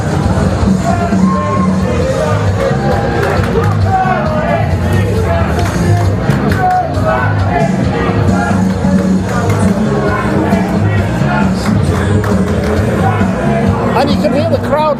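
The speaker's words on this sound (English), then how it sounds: "And you can hear the crowd there, Matt Hatter, chanting Rampage Beater at Mark Sanders" A wrestling crowd in Sheffield chants at a match, a loud continuous wall of massed voices and rhythmic chanting with cheers rising throughout, heard close and full.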